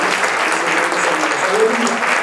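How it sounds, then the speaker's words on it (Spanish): Congregation applause during a church service, offered as clapping praise: steady dense hand claps from a full room, continuous and fairly loud throughout with no break. "Démosle una ofrenda de palmas."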